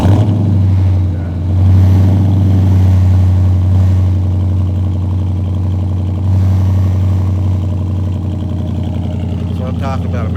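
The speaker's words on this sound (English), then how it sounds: "let's get a cold start on this thing" Cold start of a 2014 Dodge Challenger R/T 100th Anniversary Edition V8: a loud, deep engine rumble swells early then settles into a steady, throbbing idle that runs throughout, close and continuous, with a voice faintly over it.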